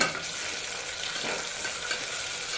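Onions sautéed and stirred in a pan, giving a steady close sizzle with soft scraping strokes throughout and no voices.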